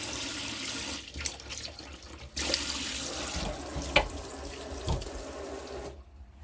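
A kitchen tap with an adjustable nozzle runs steadily into a small round sink aboard a narrowboat, a close, continuous splashing rush that shifts slightly in tone before cutting off.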